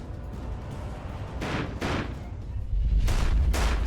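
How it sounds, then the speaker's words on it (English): Several gunshots ring out in a crime documentary reenactment, as a handful of sharp, heavy blasts in separate bursts over a low rumble, loud and close. "Khan and Pin huddle in terror as they hear multiple gunshots"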